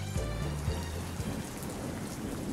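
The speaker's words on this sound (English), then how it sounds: "Ooh, there's the thunderstorm." Rain falls steadily in a thunderstorm, a dense hiss of drops on surfaces, while a low, rolling thunder rumble swells near the start and fades under the downpour.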